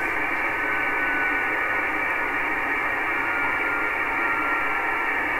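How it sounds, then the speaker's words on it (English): Continuous tone from an amateur radio satellite beacon received over a radio, a steady unbroken hum buried in constant hiss, with no voices. "receiving the continuous tone from the satellite"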